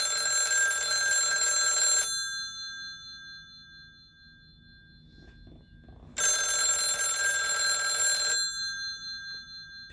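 A 1977 GNT Automatic Kirk F68 telephone rings with its bell, two loud, close trills of about two seconds each separated by a quiet gap.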